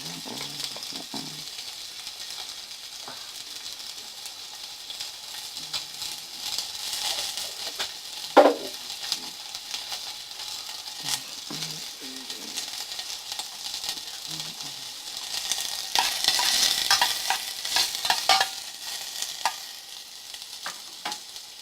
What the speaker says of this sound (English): I got the oil pretty hot, and I'm just going to put in some onions,